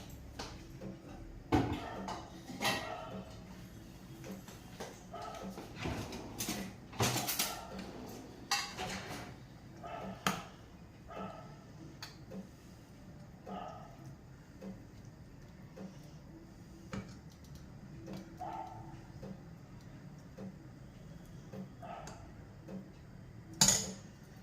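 Bisibelebath with spicy boondi is served onto a plate, with scattered light clinks and taps of a spoon against dishware, some sharp and close, spread irregularly across a quiet kitchen with occasional talk.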